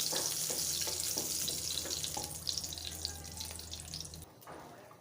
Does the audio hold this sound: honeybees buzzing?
no